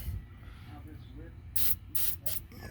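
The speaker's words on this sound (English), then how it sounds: "spray our hub down and try and mitigate some of that nastiness" Cleaner is sprayed onto the front wheel hub of a 2014 Ecodiesel truck in three short, close hissing bursts near the end, after a stretch of low background noise.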